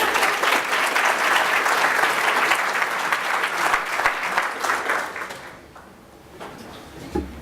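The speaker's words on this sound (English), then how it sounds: "Please keep your applause. Sustain it, please." Audience applause at the launch event of a charity organisation, loud dense clapping sustained for about five seconds, then fading to scattered claps and a brief lull.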